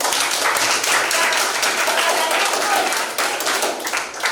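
Classroom applause from students during a history lesson, a steady patter of clapping hands lasting several seconds with light voices mixed in.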